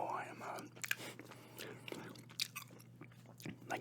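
Close, quiet gum chewing with soft wet smacks and clicks in an ASMR-style recording, irregular mouth sounds with faint whispery breath and a steady low hum underneath.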